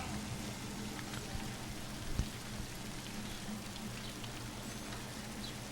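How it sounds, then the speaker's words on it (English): Big raindrops fall in a steady, dense patter outdoors on a town street, close and continuous, with one brief louder knock partway through and no talking. "now the rain, it's coming in big drops right now"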